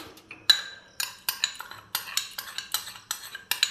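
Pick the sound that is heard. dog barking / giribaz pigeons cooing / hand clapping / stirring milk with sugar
stirring milk with sugar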